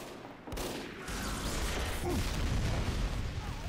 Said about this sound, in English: If I shoot like this down, you see how big the recoil is.